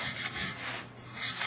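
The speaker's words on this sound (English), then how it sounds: "I'm going to do a little bit of cleaning on the bracket where the gasket goes. Wire brushes work good." A wire brush scrubs the gasket bracket of an Aqua Flo pump in quick back-and-forth strokes, a close, harsh scratching rasp with no voices.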